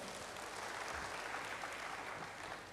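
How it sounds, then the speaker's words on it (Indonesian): A church congregation claps in a continuous, even round of applause that sounds faint and distant throughout, with no talking over it. "Yang mau berikan tepuk tangan bagi Tuhan."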